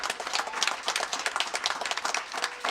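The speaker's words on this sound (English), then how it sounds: "another big round of applause to Natalie." Audience applause after a staged reading of a West Wing episode adaptation, a quiet room of scattered, uneven handclaps pattering steadily for a few seconds.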